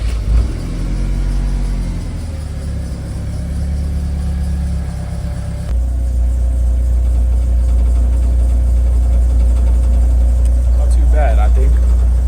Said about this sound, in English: This is the idle, as you can hear.